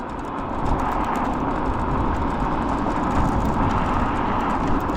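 Off-road motorcycle ridden slowly in third gear, a steady, continuous engine drone with broadband wind and road rumble throughout, fairly loud and even with no talking.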